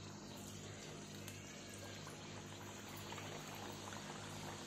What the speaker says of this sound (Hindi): अब हम इनको बिल्कुल लो फ्लेम पे पहले थोड़ी देर ऐसे ही पकने देंगे।